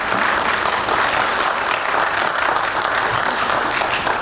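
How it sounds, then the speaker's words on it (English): Steady, dense applause from an audience for the Slidell High School Jazz Ensemble fills the room at close range and stays loud and even with no voices heard. "How about a round of applause one more time for those fine student musicians?"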